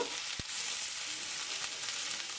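Potatoes and spring onions fry and are stirred in hot oil, giving a continuous close, hissing sizzle with a single sharp utensil knock early on.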